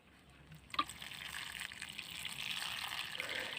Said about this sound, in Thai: ถ้าดินของเราไม่แน่นเนี่ยเราลดปุ๊บน้ำก็จะซึมลงไปแบบนี้นะคะ